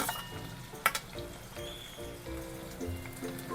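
Green chilies and onion hit hot oil in a kadhai for a Malvani-style crab curry, giving a steady crackling sizzle with a sharp spatter burst near the start and soft stirring scrapes, with no talking.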